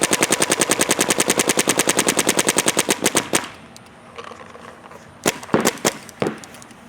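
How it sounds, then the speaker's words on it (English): A Dynasty Field One Force paintball marker fires a rapid, steady stream of loud sharp shots for about three seconds, then after a pause a few scattered single shots follow, close and clear with no talk. "So shooting the gun completely dry, no issues."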